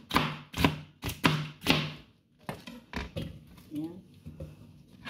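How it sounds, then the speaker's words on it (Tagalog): Large garlic cloves being chopped with a knife for gazpacho: a run of firm, evenly spaced chops up close, then lighter scattered cuts with brief speech in the background. "Ihulog natin, gayatin lang natin ng ganyan"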